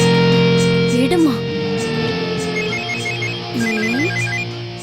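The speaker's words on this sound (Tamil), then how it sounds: "இவ எதுக்கு இப்ப ஃபோன் பண்றா?" A phone ringtone plays a repeating electronic melody, loud and close, while a voice speaks over it.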